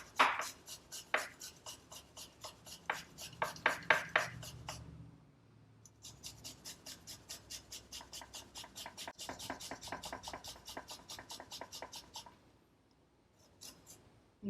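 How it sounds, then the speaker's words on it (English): Onion grated over a bowl of butter, heard as quick, rhythmic rasping strokes in steady runs that break off briefly partway through and again near the end, close and fairly clear. "I'm just going to go ahead and grate this right over the bowl so I get that juice from the onion right into the butter"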